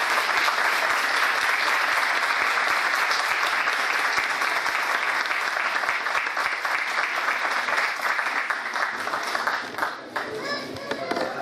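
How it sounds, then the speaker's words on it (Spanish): Loud, sustained applause from a large crowd at a formal institutional ceremony honoring a contributor, a dense roar of clapping lasting over ten seconds before tapering, with faint voices, including children's, mixed in near the end. "Quiero brindarle un fuerte aplauso"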